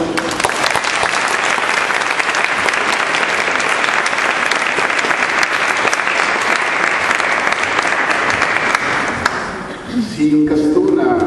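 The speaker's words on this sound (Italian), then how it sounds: "nostro carissimo, amatissimo padre Carmelo, al quale va il nostro applauso," Sustained, loud audience applause fills a church concert at the Collegiata of Somma Vesuviana, a dense wash of many hands that ends abruptly near the close.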